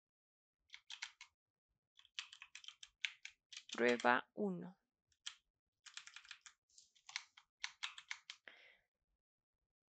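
A computer keyboard being typed on to enter a file name, quick close clicky keystroke bursts in several runs, with a short spoken phrase in the middle.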